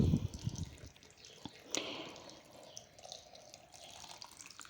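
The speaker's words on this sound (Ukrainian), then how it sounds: "Тепер доливаю просто холодною водою." Cold water poured into jars of pickling cucumbers, a steady splashing liquid stream near the microphone that runs throughout, with a brief knock near the start.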